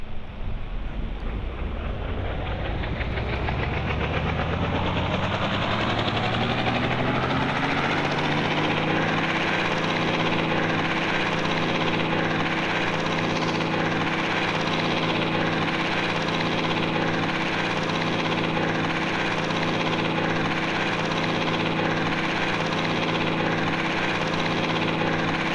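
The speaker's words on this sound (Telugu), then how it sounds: "పోలీస్ హెలికాప్టర్ చీట్ కోడ్ చూడు ఇది పోలీస్ హెలికాప్టర్ ఎక్కాలి" Police helicopter in a video game, its rotor and engine drone swelling over the first seconds into a loud, steady, continuous whir with a layered mechanical hum, no voices over it.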